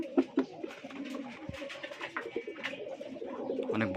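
Several large Rajshahi Giribaj pigeons, including a male-female pair, coo steadily and close, with a couple of louder coos early on over continuous soft rolling calls.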